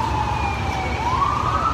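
Emergency vehicle sirens wail nearby in a street, a steady rising and falling tone over road traffic rumble, loud and with no talking.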